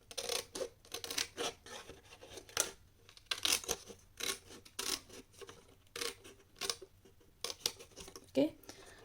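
Scissors cut paper for a handmade ladder-box gift card holder, a series of short crisp snips and rasping cuts in irregular bursts, close and fairly quiet, with faint speech in between.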